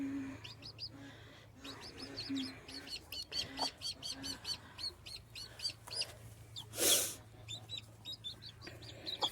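Newly hatched chicks chirp in rapid high peeps around a hen that gives low repeated clucks, close by in a quiet coop, with one sharper burst of rustle or squawk midway.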